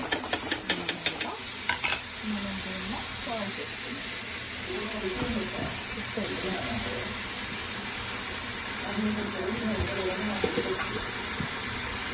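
Gongura greens fry and sizzle in a pan while being stirred, with a few sharp clicks of the utensil at the start, then a steady close hiss and scraping through to the end.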